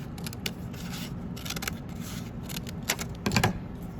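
Paper shapes cut with scissors for a craft, heard as faint, crisp snipping clicks in irregular clusters, close by and quiet, with no talking.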